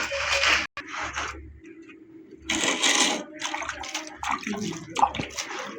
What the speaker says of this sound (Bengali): মাটিটা ভিজে গেছে, এইভাবে ঘষতে হবে কুলাই দিয়ে করে।